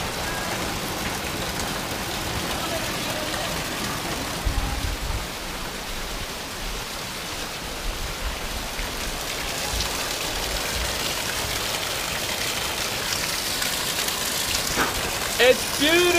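Heavy monsoon rain pours off a roof in a national park in Thailand, a loud continuous rushing hiss of water with splashing, steady throughout, with faint sounds of activity nearby.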